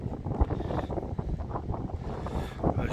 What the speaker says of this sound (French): Je sais pas si vous allez nous entendre avec le vent.